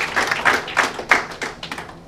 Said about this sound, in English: Big hand of applause to G before.